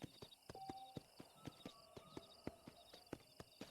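Horse hooves clip-clop steadily in a Red Dead Redemption ride, about two or three sharp strikes a second, close and clear over a soft game ambience with no voices.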